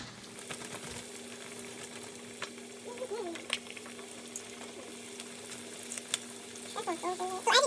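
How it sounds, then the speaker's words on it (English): Chicken pieces, dusted in flour, frying in hot grease for a homemade chicken box: a steady soft sizzle throughout with small crackles and pops, growing louder and busier near the end as another piece drops in. "then you're going to drop it in the grease"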